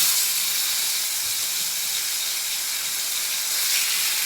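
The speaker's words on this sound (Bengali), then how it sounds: "আর তেলটা গরম হয়ে গেছে এবার মাছটা দিয়ে দেবো" Large pieces of fish frying in hot oil in a home kitchen pan, giving a loud, steady, even hiss from start to finish with no talking.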